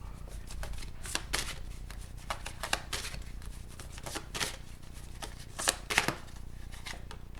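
Tarot confirmation deck shuffled by hand, a steady run of soft riffling card flutters with sharper snaps near the end, close and quiet with no talking.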